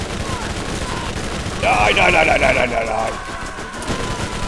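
Rapid bursts of enemy gunfire in the Borderlands shooter game, a dense stuttering rattle with a tonal whine layered over steady background noise, while a voice speaks briefly.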